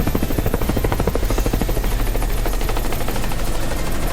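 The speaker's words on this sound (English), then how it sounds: "Get that turbine spooling up." Helicopter turbine spooling up during a flight lesson, a loud steady whine with fast rhythmic rotor chop throughout, close and continuous.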